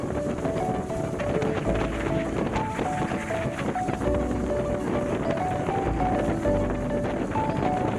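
Strong southwest wind buffets the microphone aboard a racing sailboat beating upwind at seven to eight knots. Constant roaring gusts mix with rushing water and faint rigging tones.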